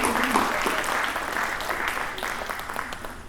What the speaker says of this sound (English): I sort of feel like that's worthy of an applause.